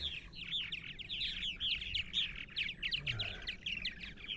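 Purple martins call and chirp in a busy, continuous chorus at a nesting site on eastern Long Island, New York in spring, many overlapping warbles and tweets close by.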